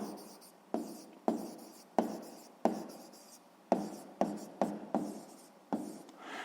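Pen or pencil writing on paper while a maths exercise answer is noted down, with quick repeated scratchy strokes in a steady rhythm, close and fairly clear.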